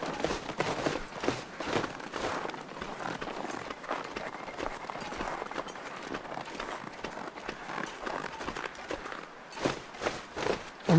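Footsteps crunching through snow in The Long Dark, a steady rhythmic series of close, soft crunchy steps continuing throughout, with a slight pause near the end.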